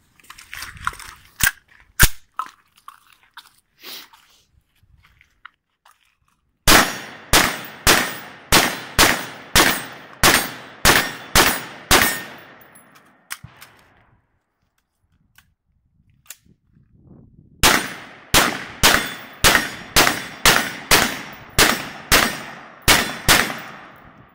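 Bursts of AR-15 pistol gunfire, a few isolated shots followed by two long strings of rapid, evenly spaced loud cracks with short echoing tails, separated by a quiet pause.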